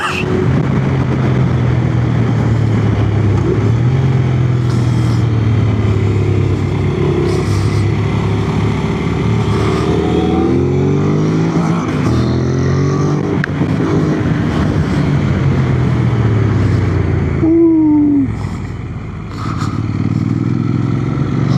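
A Honda NC750X motorcycle engine revs hard, its pitch sweeping up and falling back again and again, loud and close, with a brief drop in level near the end.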